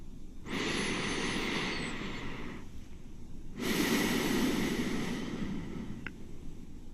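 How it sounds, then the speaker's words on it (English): Two slow, deep breaths are drawn through the nose, each a long airy hiss lasting a couple of seconds, close and clear against quiet surroundings. "Deliberately take a few deep breaths."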